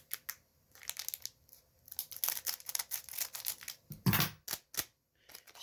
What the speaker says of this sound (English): Let's get to the snipping.